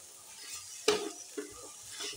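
Paneer fries quietly in a pan while a utensil stirs it, with a sharp scrape or clink against the pan, then softer stirring strokes over a low sizzle.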